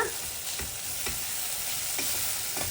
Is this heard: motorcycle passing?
no